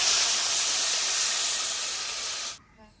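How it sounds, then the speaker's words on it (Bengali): Water poured into a hot pan of fried egg and potato curry on an outdoor village stove, a loud close hiss and steam burst lasting a couple of seconds before abruptly dying away. "আমি এখন পরিমাণ মতন জল দিয়ে দেবো"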